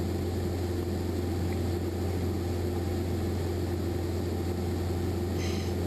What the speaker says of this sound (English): I'll just let you enjoy the view of a small airplane flying over the beach.